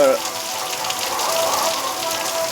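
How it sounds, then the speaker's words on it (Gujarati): Rain pours steadily on Pipardi village in Vichhiya taluka at the start of the wet season, a dense, even hiss of drops close by with no breaks. "તમે જોઈ શકશો કે કેવો વરસાદ પડી રહ્યો છે"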